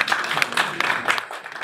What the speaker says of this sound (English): Please clap for yourselves.